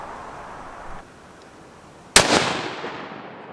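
A single sharp crack from a .204 Ruger rifle firing a 32 grain bullet outdoors, loud and sudden, with a short echoing tail that fades over about a second after a quiet lead-in.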